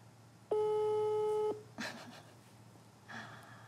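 A single long steady telephone ringback tone sounds from an outgoing phone call, clear and close for about a second, followed by faint breathing and rustling.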